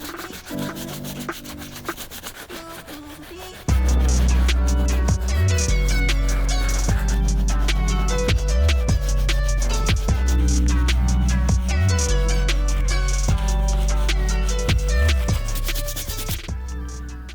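A medium bristle brush scrubs stains on the upper of an Air Jordan 4 sneaker, making a close, continuous rough rubbing with repeated back-and-forth strokes that grow louder and denser after a few seconds.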